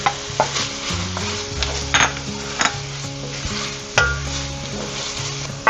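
Tomato paste and thyme sizzle steadily in a pan with beef stew after the wine has cooked off, with a loud, continuous frying hiss broken by repeated scraping stirs and no voices.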